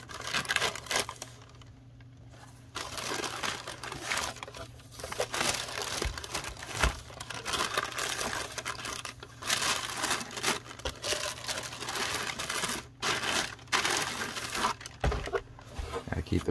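Tissue paper inside a Jordan 6 sneaker box crinkles and rustles in bursts of dry crackling handling noise, fairly close, running through the whole stretch with a steady low hum underneath.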